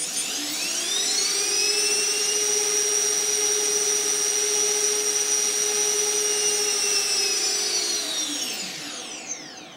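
Rotors of a mini H-quad drone whining at high revs, a loud steady close buzzing drone that holds for several seconds and then winds down in pitch as the throttle drops.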